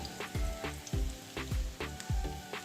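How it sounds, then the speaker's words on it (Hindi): Crushed ginger and garlic hit about half a cup of hot oil in a pan, giving a continuous close sizzle with regular sharp spatter bursts at a steady rhythm, no talking. "अब मैंने पैन में हाफ कप तकरीबन ऑयल डाला है और इसमें मैं अब 1 टीस्पून जिंजर डालूंगी क्रश और 1 टीस्पून गार्लिक डालूंगी।"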